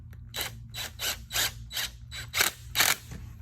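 A hose clamp on a lateral lining knot being cinched down with a ratcheting tool, a run of about eight quick ratchet clicks in uneven rhythm, close and crisp against a low background hum.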